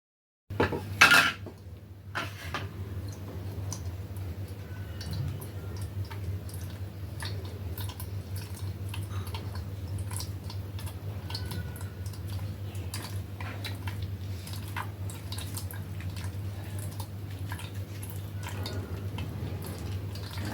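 Blended coriander stem mixture being strained to keep the juice for coriander soup: light clinks and scrapes of kitchenware with faint dripping over a steady low hum, no voices.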